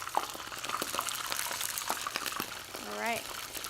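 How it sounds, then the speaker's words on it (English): Soft shell crabs sizzle and crackle in hot oil with steady popping throughout, while a voice rises briefly in a short melodic sound near the end. "It's always a hazard frying soft shell crabs."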